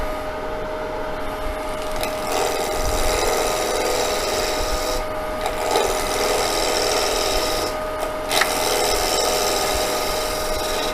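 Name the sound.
skew chisel peeling wood on a lathe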